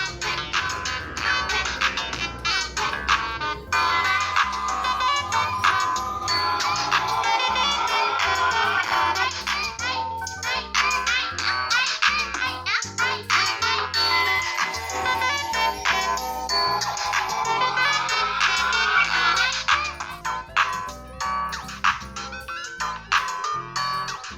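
A Redmi 15C phone's single speaker plays a sample track, a busy music passage with bright chiming tones and a thin low end that runs loud and continuous throughout.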